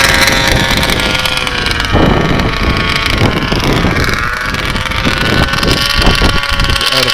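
An ALX 100cc go-kart engine runs at full throttle, a loud continuous buzzing drone with shifting pitch and wind buffeting on the microphone, close and sustained throughout with no talking.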